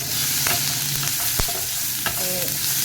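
Onion with ginger, garlic and chili paste sautéing in oil in a pan, a steady close sizzle broken by repeated clicks and scrapes of a spoon stirring.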